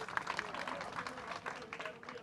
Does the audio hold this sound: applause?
yes